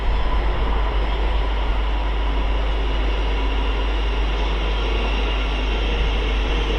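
Steady rumble of a Class 700 electric train pulling in on the far platform at Peterborough station, a constant broadband roar with no breaks and no voices.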